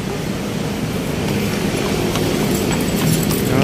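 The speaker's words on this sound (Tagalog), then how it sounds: "Ayan, ating mga kabayo." Horses walk along Manila Bay, their hooves clip-clopping in a steady, continuous patter over a broad background wash of bayside wind and traffic.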